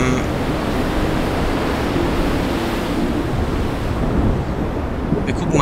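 Strong, steady wind blows loudly and without pause across the island in Harvest Moon: The Winds of Anthos, a constant roaring rush with no gaps.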